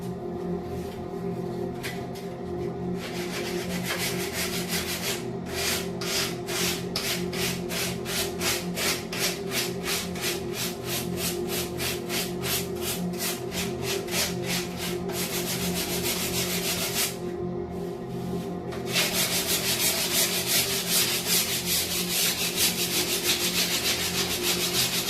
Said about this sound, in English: Technically easier to sand, but it does kind of fray a bit.